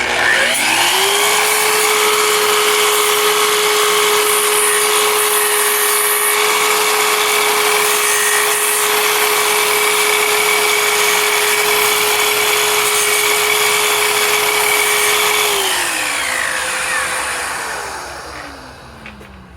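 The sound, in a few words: miter saw cutting half lap joint in wood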